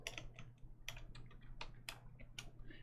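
Quiet, close typing on a computer keyboard: scattered clusters of light key clicks in an irregular rhythm, with no talking.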